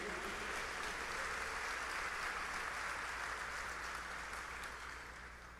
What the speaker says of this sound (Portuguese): Você pode aplaudir o Senhor, diga amém.